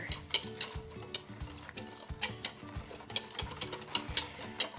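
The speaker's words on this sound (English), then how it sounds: "Grab your whisk, and you're just gonna stir everything together." A whisk stirs a yogurt mixture in a bowl with quick, rhythmic, close-up strokes and clinks, steady and fairly soft, with no talking.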